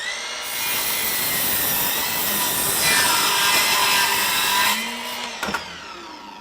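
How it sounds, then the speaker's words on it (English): A Ryobi 18V 7-1/4-inch cordless sliding compound miter saw slices through a pine 1x6 at a 45-degree miter, a loud close whining cut lasting several seconds that spins down at the end. "it will make some pretty decent cuts in that miter situation, cutting through 1x6"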